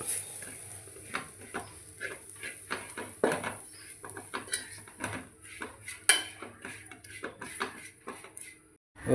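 A spoon scrapes and clinks against a pan while masala for a Kerala-style beef fry is stirred and roasted, giving an irregular series of close metallic taps and scrapes with brief quiet gaps between them.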